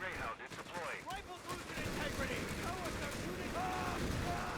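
Rifle gunfire in a Company of Heroes 3 battle, rapid crackling shots and bursts over a dense rumbling din of combat, with voices calling out amid the fighting.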